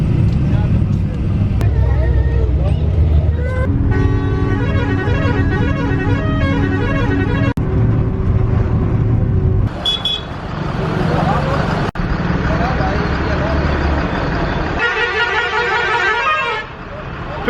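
A private bus at a bus station in India sits with its engine rumbling while loud, repeated melodic horn blasts sound nearby amid traffic noise, and people talk over it.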